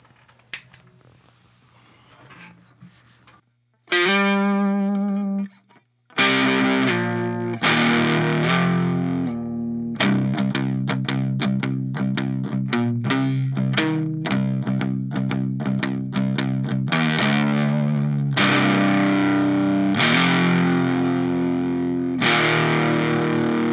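Electric guitar run through a Donner Extreme Driver distortion pedal on its clean side gives a crunchy, lightly broken-up tone, with single notes and then a long run of steady strummed chords played loud and up close.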